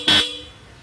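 A Hella Supertone horn fitted to a Yamaha NMAX scooter gives one short, very loud blast close by, then cuts off into a faint hum.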